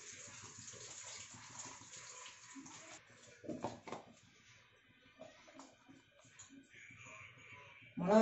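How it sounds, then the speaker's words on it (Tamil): Water splashes and trickles into a pressure cooker at moderate volume, with a louder pour near the end and faint clatter in between. "தண்ணி ஊற்றிருக்கேன் குக்கரில், அஞ்சு டம்ளர் தண்ணி ஊற்றிருக்கேன்."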